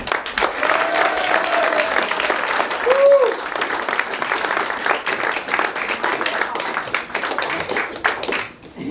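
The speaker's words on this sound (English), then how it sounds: "give a big, warm applause for Anne Ambia." An audience at an evening talk on Bolivia breaks into sustained, warm applause, with steady dense clapping filling the room for several seconds.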